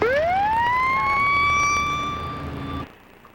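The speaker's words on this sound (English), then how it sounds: "sound your siren." An emergency vehicle siren, a 1997 rescue scene, sweeps up and holds a loud steady wail, then cuts off abruptly near the end, leaving a quiet background.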